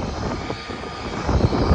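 Airplanes taking off one after another near an airport, a loud continuous engine roar swelling slightly toward the end, heard up close with no talking.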